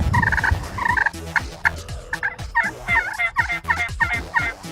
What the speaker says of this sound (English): We got 2 gobblers out here in front of us gobbling.